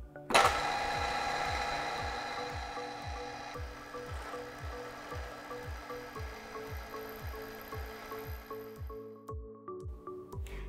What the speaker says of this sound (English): The RF-40 is a sturdy workhorse mill drill for your workshop.